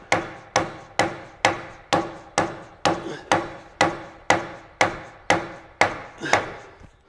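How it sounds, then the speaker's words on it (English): A rubber dead blow mallet drives a rear Antirock sway bar through a Jeep JL Wrangler in about fourteen steady, evenly spaced blows, each a dull, solid thud close by with no talk. "Again, I'm using a rubber mallet, dead blow."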